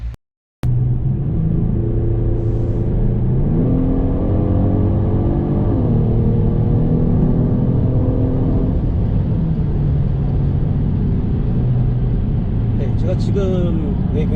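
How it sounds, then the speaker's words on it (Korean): A Genesis G70 3.3 turbo's exhaust note rising in pitch as it accelerates hard through gears, loud and continuous from the cabin, with a brief silence at the start. "배기음은 어떨지 지금 다시 출발하면서 여러분들께 이제 들려드리도록 하겠습니다"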